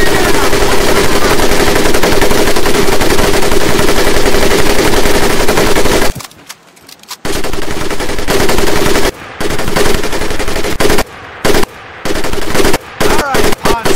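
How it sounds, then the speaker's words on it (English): An M1919A4 .30 caliber machine gun fires in the Medal of Honor: Pacific Assault video game, loud sustained bursts with brief pauses between them, up close. "Now here we have my personal favorite, the M1919A430 caliber machine gun."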